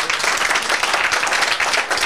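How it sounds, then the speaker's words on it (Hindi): A crowd claps and applauds steadily for a cricketer from Gopalganj newly picked for the Indian national team, a dense, loud, continuous patter of many hands. "देखिए देखिए दांत चियार चियार के ताली बजा रहा है"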